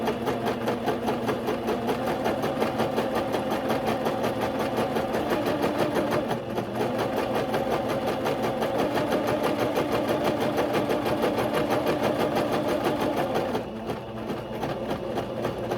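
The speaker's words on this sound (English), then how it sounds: "you want to finish sewing your channel" A sewing machine stitches a ribbon channel on a tulle tutu skirt, running in a steady rapid whir with fast needle clatter, pausing briefly twice, with no talking.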